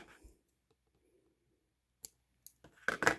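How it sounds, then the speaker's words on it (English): Small scissors snip embroidery thread while starting a counted cross stitch, giving a couple of sharp, close clicks late in an otherwise quiet moment. "then I'm going to come over and I'm going to snip that"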